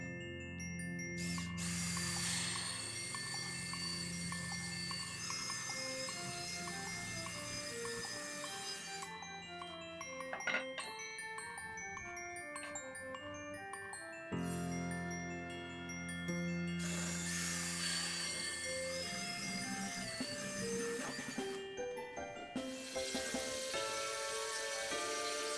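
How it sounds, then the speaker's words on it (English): A half inch spade bit on a power drill bores holes in pine wood, giving a whirring motor with grinding bursts that stop and restart, heard close and alone. "I'm going to use a half inch spade bit to make two holes that I'll then cut together with my jigsaw."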